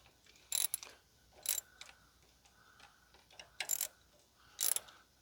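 A wrench loosens 11/16 nuts on a King Kutter tiller attachment for a Kioti tractor, giving several short, sharp ratcheting clicks in separate bursts with quiet gaps between them, close and fairly faint.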